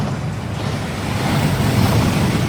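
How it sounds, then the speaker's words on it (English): A waterfall in the video game Hogwarts Legacy rushes with a dense, loud, continuous roar that swells slightly over a couple of seconds, with no speech over it. "That waterfall washes away all enchantments."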